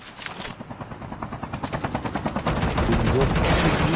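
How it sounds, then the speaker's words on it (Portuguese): Rapid rhythmic thumping of video-game helicopter rotor blades growing louder as it approaches, mixed with game gunfire, chopping pulses speeding into a dense roar. "Ó o helicóptero chegando"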